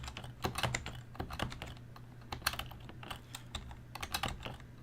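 Steady typing on a computer keyboard, a run of quick, uneven key clicks at close range with short pauses, fairly quiet and with no talking.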